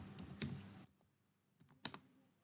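Typing on a computer keyboard while editing text in a design tool, a few quick clustered keystrokes, a pause, then another short burst, close and fairly quiet with no talking.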